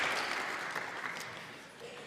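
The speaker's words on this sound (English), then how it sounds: "Let me hear a cheer for that now." A church congregation at an Easter Sunday service claps and cheers, a broad wash of applause that fades gradually over a couple of seconds, with a voice talking faintly over it.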